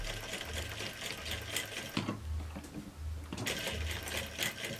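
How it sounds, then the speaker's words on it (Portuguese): A sewing machine stitches a curved seam in fabric, a soft, steady mechanical whirr with a rhythmic low pulse, pausing briefly around the midpoint before running on at an even pace. "Aqui na hora de costurar faz a curvinha bem direitinho"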